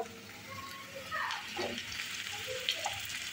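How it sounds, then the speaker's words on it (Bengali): Onions fry in oil in a wok with spices, giving a soft, continuous sizzle that stays faint and distant, with light crackles and a few faint, indistinct voice-like sounds. "কড়াইয়ে তেল দিলাম, পেঁয়াজ ভেজে নিচ্ছি"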